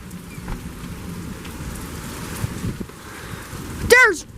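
A thunderstorm with heavy rain and gusty wind: a steady, close hiss of rain on surfaces runs under low rumbling thunder, and a short exclaiming voice breaks in near the end.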